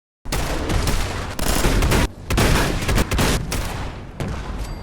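Sustained loud bursts of launcher fire and explosions from a modded Fallout 4 weapon, several dense roaring volleys separated by brief gaps, no talking.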